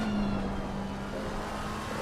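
BMW race car in a sim racing game at Donington gives a steady engine drone with a sustained tonal whine, loud and close throughout, with no other sounds.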